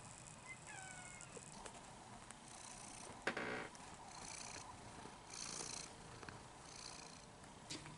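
A cat purrs close by in a steady, quiet, rhythmic rumble that runs throughout, with a few brief rustles and a soft thump partway through.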